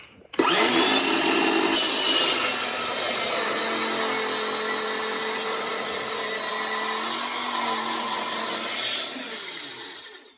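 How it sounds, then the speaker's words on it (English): A power saw cuts steadily through a piece of aluminum stock being made into the small rail for an FSC drum magazine part. The loud, continuous grinding whine runs for about nine seconds, with no talking. "Oh, now I gotta go cut a piece."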